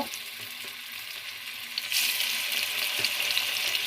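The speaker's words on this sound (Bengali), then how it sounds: "তেলটা গরম হয়ে গিয়েছে এখন আমি এক এক করে মাছটা ছেড়ে দিব" Pangas fish pieces dropped into hot oil one by one, a steady frying hiss that jumps to a louder, brighter sizzle partway through as another piece goes in, close and continuous without speech.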